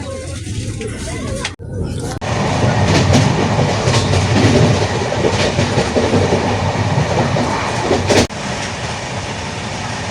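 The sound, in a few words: moving passenger train interior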